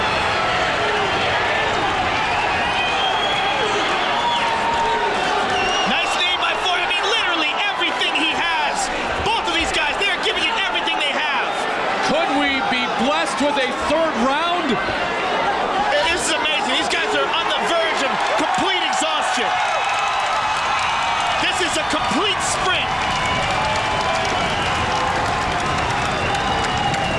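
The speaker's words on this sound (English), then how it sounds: "Listen to this crowd." A large arena crowd at a 2005 UFC fight roars continuously, with cheering and applause swelling throughout and a commentator talking over the noise.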